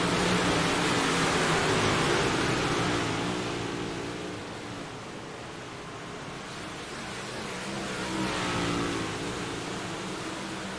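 Big block modified race cars lap a track in a National Auto Racing Club series race, their engines a dense, continuous roar that swells, eases and builds again as the pack passes at a distance.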